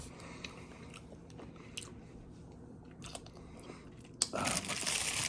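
Loud close-up biting and chewing of Taco Bell food, with crunchy bites and wet mastication sounds scattered through, ending in a denser burst of crunching near the end.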